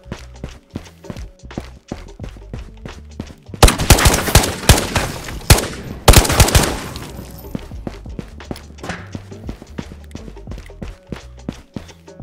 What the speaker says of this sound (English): Gunshots at prison.